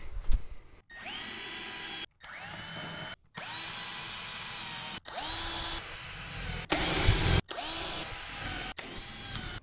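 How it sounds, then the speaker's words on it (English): A power drill whines in repeated bursts of a second or two, revving up and spinning down between short pauses, close and loud. "Let's get a drill."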